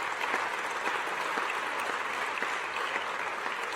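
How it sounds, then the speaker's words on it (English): Steady applause from an audience at the opening ceremony of the F1 in Schools World Finals in Singapore, a dense, even patter of clapping that holds throughout at a moderate distance, with no voices over it. "Give yourself a massive round of applause"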